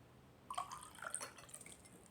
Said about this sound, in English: and I'm going to put warm water.